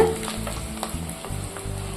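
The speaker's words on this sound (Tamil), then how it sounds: "முருங்கை இலையை சேர்த்து எண்ணெயில் நல்லா வதக்கிட்டு" Oil sizzles and crackles steadily as drumstick leaves are stirred in a pan, with occasional scraping clicks, close and moderately loud.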